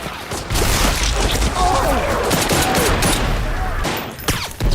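Mortar fire in a battle scene from the war series The Pacific, set on Iwo Jima: dense continuous explosions and gunfire with booms and crashes, loud throughout, with shouting voices mixed in.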